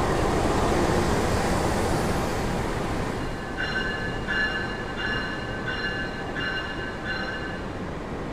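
The Ambarawa Express passenger train rumbles past at close range with heavy rolling noise, then a series of high, evenly spaced wheel squeals rings out as it moves on.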